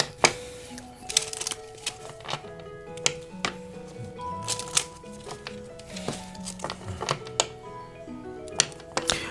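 Oracle cards shuffled by hand make a quick run of crisp, papery clicks and flutters in uneven bursts, close to the listener, over soft background music.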